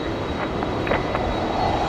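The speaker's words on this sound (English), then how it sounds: "A330 pushing back from the domestic terminal" A Qantas Airbus A330-200 jet pushes back at Brisbane airport's domestic terminal, giving a steady, loud engine whine and roar with a faint high tone.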